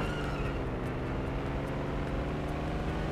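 A tuned JDM car drifts in an Android racing game with a steady droning engine roar that holds without a break throughout.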